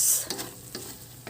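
A Filipino sardine omelette frying in a pan gives a bright close sizzle, broken by a few quick scrapes and taps of a utensil against the pan.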